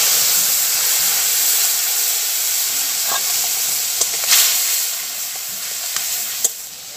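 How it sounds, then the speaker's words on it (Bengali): Spice paste sizzling in hot oil in a kadai while cooking a Bengali panch phoron rohu fish dish, a steady close frying hiss with a few sharp crackles and spatter pops. "গরম তেলের মধ্যে মশলাটা আমি দিয়ে দিলাম।"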